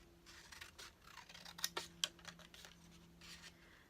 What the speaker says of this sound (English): I'm going to take my scissors and I'm going to cut about 3/4 of the way up